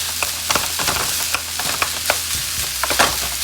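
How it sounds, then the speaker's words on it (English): Home-style Japanese hibachi fried rice sizzles loudly on a hot surface as soy sauce is mixed in, with repeated sharp spatula scrapes and taps breaking up the rice, close and busy, no talk. "I'm adding some soy sauce to break it down. Go ahead and add it just a little bit"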